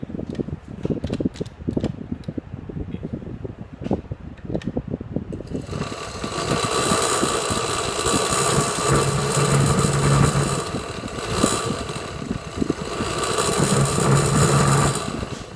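Van de Graaff generator motor switching on at 400 RPM after clicking and handling noises, then running as a steady, loud, high whirring hum with a faint whine.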